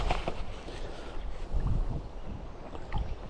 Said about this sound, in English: The wind's quite strong now. Blustery.